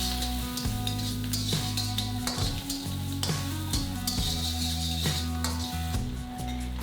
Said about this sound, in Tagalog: Sauté the garlic, ginger, and onion until fragrant.